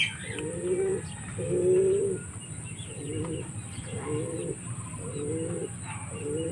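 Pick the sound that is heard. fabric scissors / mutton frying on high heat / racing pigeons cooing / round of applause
racing pigeons cooing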